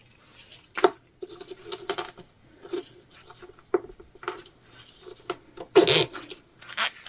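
Plastic zipper teeth click and snap together in irregular small bursts while a tote bag is sewn, close up, with light rustling handling noise between them.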